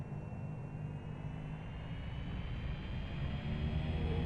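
Light aircraft engine spooling up to takeoff power in the X-Plane 11 flight simulator, a steady droning roar that gradually grows louder and rises slightly in pitch, heard alone without voices.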